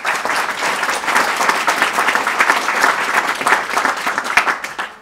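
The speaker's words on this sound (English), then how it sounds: "Can we have a big round of applause, please," Audience applause at an arts and design talk in Norway, welcoming a speaker to the stage. Dense, steady clapping from a full crowd holds for about five seconds, even and fairly loud throughout with no talking over it.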